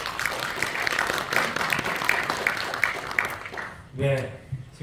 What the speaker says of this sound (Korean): 우리 이원우 의원님을 큰 박수로 모시겠습니다